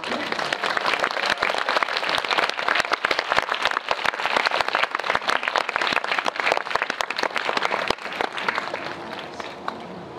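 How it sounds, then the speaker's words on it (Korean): A theater audience of about 280 people claps loudly for a film director and young actors coming on stage at a movie talk event, a dense burst of applause that fades toward the end. "들어오시면 큰 박수 부탁드릴게요"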